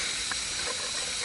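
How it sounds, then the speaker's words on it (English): Water at a rolling boil in a pot on a camp stove gives a steady, close hiss and rushing steam noise that stays even throughout, with no talking over it. "Water is boiling, or at least it was until I took the lid off."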